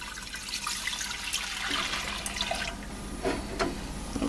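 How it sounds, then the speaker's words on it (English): Vinegar poured into a pot for sweet and tangy gherkin pickle brine, a steady close splashing stream of liquid that runs throughout without any talk. "So there goes, in goes the vinegar."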